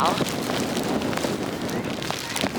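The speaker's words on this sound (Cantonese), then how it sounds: "大風到爆炸" Strong gusting wind buffets the microphone at Gullfoss waterfall in Iceland, a loud rough roar that runs throughout while a person speaks over it.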